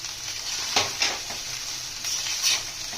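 Rice with peanuts and turmeric stirred in a frying pan for lemon rice: a bright steady sizzle broken by a few distinct scraping strokes of the spoon, close and alone with no talking.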